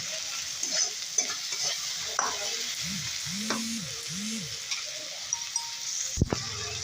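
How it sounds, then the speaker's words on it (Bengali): Tomatoes with salt and turmeric sautéing in a pan, giving a steady faint sizzle under repeated spatula stirs and scrapes, with a sharp clack near the end. "দিয়ে টমেটোটাকে ভালোভাবে কষিয়ে নেব।"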